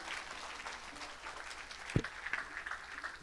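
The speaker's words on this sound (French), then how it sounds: "Acclame pour Jésus." A church congregation applauds for Jesus during a sermon, a steady wash of clapping across the room with one sharp knock partway through.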